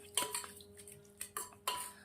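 Amaranth leaf sabzi with fresh coriander being mixed in a pan, several sharp spoon clinks and scrapes against metal spaced irregularly, close but quiet.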